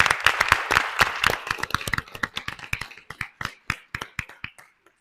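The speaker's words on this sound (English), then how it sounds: "I want to give you guys a round of applause as well." A school auditorium audience at a principal's town hall gives a round of applause: a dense burst of many hands clapping that thins to scattered, separate claps and stops after about five seconds.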